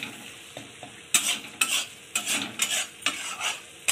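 Masala with yogurt sizzles in a pan while being stirred, a soft frying hiss broken by a rhythmic series of loud scraping strokes about every half second, close by and with no talking.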